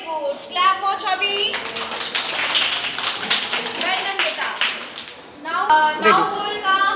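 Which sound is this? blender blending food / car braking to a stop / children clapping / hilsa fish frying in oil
children clapping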